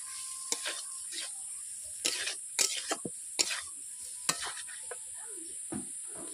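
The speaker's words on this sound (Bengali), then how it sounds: "পোস্ত দিয়ে এইরকম 1 মিনিট আমি নেড়ে নিলাম।" Potatoes being stirred with poppy seed paste in a pan for Bengali aloo posto, giving soft scraping and sizzling strokes in scattered bursts against a steady background hiss.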